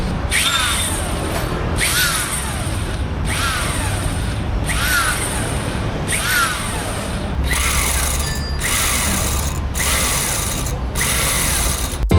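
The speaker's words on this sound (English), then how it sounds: "We are drilling off the front wheel nut now." A loud power drill or impact wrench whirring in repeated bursts, about nine in a row with brief gaps, removing a front wheel nut on a Nissan Cefiro A31, close by and without talking.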